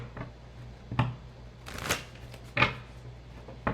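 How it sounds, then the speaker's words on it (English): Tarot cards are shuffled in a few quick riffles, short crisp bursts separated by brief pauses, close and fairly quiet. "let's just give a quick shuffle."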